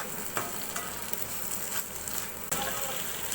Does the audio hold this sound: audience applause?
no